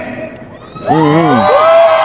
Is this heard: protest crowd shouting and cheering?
yes